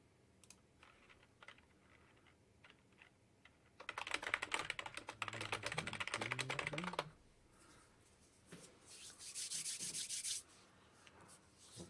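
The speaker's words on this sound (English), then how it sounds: "we're going to do a quick test of typing" Keyboard typing while walking on a treadmill desk: a dense burst of rapid clicking keystrokes for about three seconds, then a quieter stretch and a second shorter run of typing, close to the microphone with no talking.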